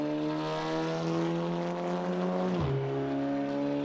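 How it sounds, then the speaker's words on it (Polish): Audi S3 in a racing video game mod holds a steady loud engine drone, then its pitch drops sharply on an upshift with a brief popping burst from the exhaust before the drone resumes; no talking. "Fajnie pyrka przy zmianie biegu w górę"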